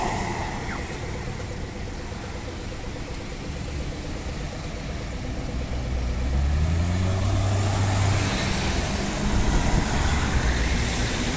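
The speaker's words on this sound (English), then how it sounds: "Let's watch these buses turn." Rail-replacement buses turning nearby, a steady diesel engine drone that grows louder and deeper partway through as a bus pulls close, with a low rising engine tone.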